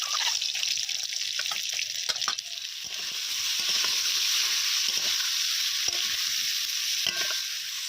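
Eggs seasoned with salt and turmeric fry in a pan with a steady, bright sizzle, broken by occasional sharp crackles and spatters, close and alone without talk.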